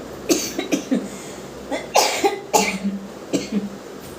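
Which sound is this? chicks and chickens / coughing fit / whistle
coughing fit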